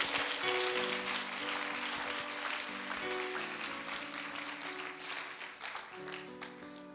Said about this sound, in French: Acclamons très fortement pour la gloire du Seigneur